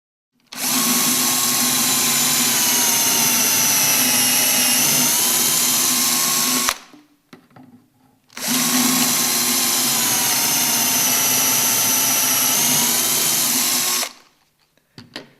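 A power drill bores pocket holes in wood held in a UJK pocket hole jig, two loud sustained whining runs of about six seconds each, separated by a short pause with small knocks.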